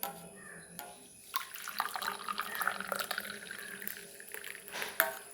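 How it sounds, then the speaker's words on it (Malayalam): Tea being poured into a glass at home, a soft liquid trickle and splashing that rises after a quiet start, with a small clink near the end. "അപ്പം നമുക്ക് ചായ ഗ്ലാസ്സിലേക്ക് ഒഴിക്കാം."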